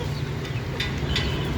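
Chickens kept in cages for sale cluck and fuss at close range over a constant low hum, with a couple of short, sharper calls standing out above the steady flock noise.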